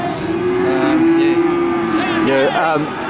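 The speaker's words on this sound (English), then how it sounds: "Alan, you started off probably one of the biggest lineups of Hereford cattle that you've seen" A Hereford cow at a Tasmanian livestock sale gives one long, low, steady moo close by that wavers upward at the end, over constant noise from the sale yard.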